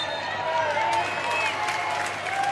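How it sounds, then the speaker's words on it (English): A home crowd roars steadily at a Melbourne Victory versus Adelaide United A-League semi-final football match, a dense, continuous wash of noise with faint whistles and shouts, while a commentator talks over it. "in front of a pretty vocal home crowd at the home of the Matildas"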